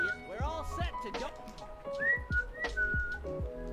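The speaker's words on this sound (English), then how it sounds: "I can also whistle in and out." Close whistling that pulls air in and out, producing rising and sliding tones in short bursts over a busy background of voices and game sounds.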